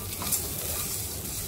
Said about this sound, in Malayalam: ഉള്ളി മൂത്തതിലേക്ക് 1/4 കപ്പ് സേമിയ ഇട്ടിട്ട് വറുത്തെടുക്കാം.